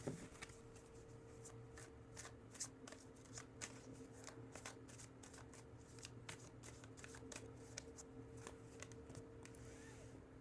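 Tarot cards are shuffled close by in quick, repeated riffling snaps and soft flicks, quiet and irregular, over a faint steady hum.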